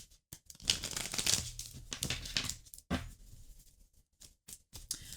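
A deck of tarot cards being shuffled makes quiet, irregular bursts of papery riffling and crinkling rustle separated by short pauses.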